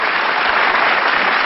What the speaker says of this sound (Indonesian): Kasih tepuk tangan dong buat Syahrini.